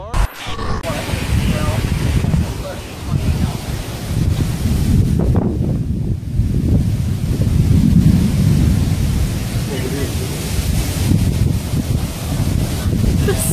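Roaring wind from a multiple vortex tornado, with thunder, rumbles continuously and loudly, buffeting the microphone with gusts and rustling debris throughout, with no clear talking.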